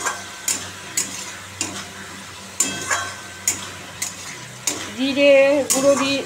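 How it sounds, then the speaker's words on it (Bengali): Spice paste (masala) stirred and fried in a pan, with repeated scraping strokes and clinks of a utensil against metal over a steady sizzle, close and fairly loud, with no speech. "দেখো মশলাটা দিয়ে দিলাম, কষাচ্ছি এখন।"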